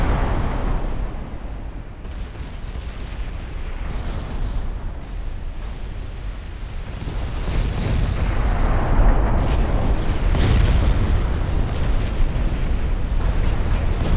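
Six-inch naval guns fire in Ultimate Admiral Dreadnoughts, booming repeatedly under a heavy, continuous rumble that swells louder midway, with no talk.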